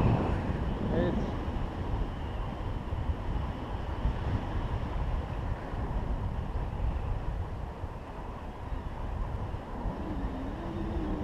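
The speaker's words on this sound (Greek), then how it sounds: "τώρα καταλαβαίνεις σημαίνει άνεμος" Strong wind buffets and roars continuously against the microphone while paragliding at Etoliko, Greece, a dense, rushing noise with faint voices underneath.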